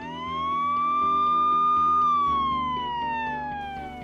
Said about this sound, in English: Oh look, a police car.